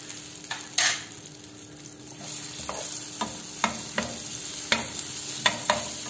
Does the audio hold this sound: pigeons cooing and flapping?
no